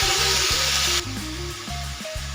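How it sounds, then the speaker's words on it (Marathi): Washed shepu (dill) greens go into hot oil with a loud burst of sizzle that quickly dies to a softer fry, while a spoon stirs them with light scrapes and knocks. There is no speech. "आपण स्वच्छ धुवून घेतलेली भाजी आहे ना ती आता तेलामध्ये टाकून छान परतून घ्यायची।"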